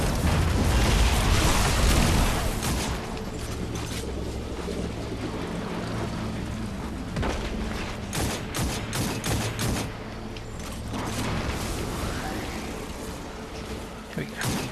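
Gunfire and explosions in Destiny 2, a heavy boom at the start fading into scattered sharp shots and bursts over a rumbling background, with a voice speaking at times.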